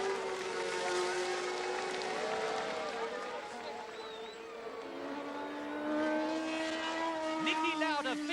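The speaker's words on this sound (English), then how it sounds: "James Hunt crosses the line to win the British Grand Prix" Formula 1 race cars at the 1977 British Grand Prix at Silverstone scream past at the finish, high revving engines rising and falling at a distance beneath excited commentary and crowd noise.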